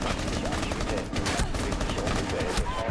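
Dense bursts of rapid gunfire in the video game Rainbow Six Siege crackle continuously, with sharp overlapping shots and a busy, mechanical background.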